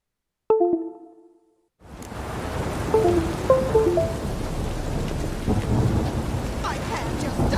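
Rain and thunder in The Witcher 3: a short tonal chime, a brief silence, then a loud thunder crack that opens into steady heavy rain with faint melodic notes drifting over the downpour.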